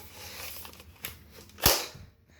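Toy break-action shotgun being primed: soft mechanical shuffling, a small click, then a sharp snapping clack, close and fairly quiet.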